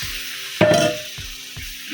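A pan of curry puff filling sizzles and spits loudly as cold water hits hot oil, then settles into a steady frying crackle with a few soft knocks.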